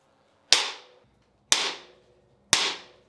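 A bicycle is whacked hard three times at even one-second intervals, each a sharp, loud crack that rings briefly before fading to silence.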